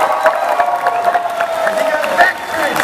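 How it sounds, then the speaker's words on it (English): Applause and cheering from an audience at a cosplay halftime show for a young magic-trick volunteer, a steady crowd roar with clapping and occasional whoops, with a presenter's voice over it. "Give him a big round of applause."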